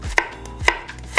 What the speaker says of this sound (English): A base of a good ragu, it's always an onion. Chop that up.